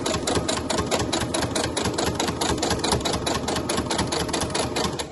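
A sewing machine stitching fabric runs fast and steady up close, its needle hammering in a rapid, even rhythm for the whole stretch with no talking.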